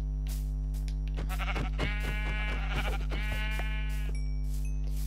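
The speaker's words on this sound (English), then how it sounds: "Oh, more sheep. What do you know?" Sheep in the video game Minecraft bleat several times in a row, wavering calls over a steady low hum, with no talking.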